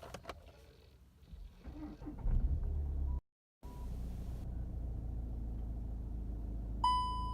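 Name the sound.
Skoda Octavia car engine starting up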